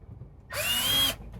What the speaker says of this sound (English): Simply a case of dropping the screws into the platform